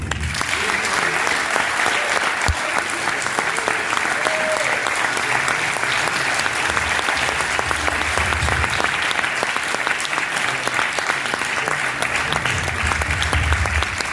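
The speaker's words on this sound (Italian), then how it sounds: "Un grande applauso." Sustained audience applause fills a theatre after a live music show, a dense, loud, unbroken patter of many hands lasting well over ten seconds, with faint low rumbles beneath.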